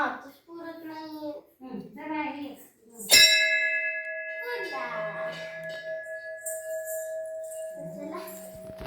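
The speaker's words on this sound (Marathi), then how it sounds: "मी घंटी वाजवते" A temple bell at the Amruteshwar temple in Ambajogai is struck once, loud and close. Its bright tone rings on and slowly fades, with a voice talking before and after the strike.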